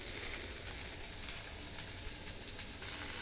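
Ginger, garlic and chili paste frying in a pan, a steady close sizzle with bright crackling hiss and small popping bursts throughout.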